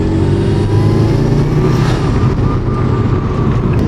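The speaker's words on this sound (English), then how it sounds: "Man, the turbo on this thing, I can never get over the turbo." Subaru WRX turbocharged engine pulling hard under acceleration, a loud continuous drone with rising harmonic tones, close and steady for a few seconds, with no voices.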